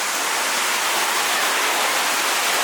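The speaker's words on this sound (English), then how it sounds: "you get to actually walk right behind the waterfall here" Waterfall in a gorge roaring as a continuous broadband rush of falling water, steady and close with no voices.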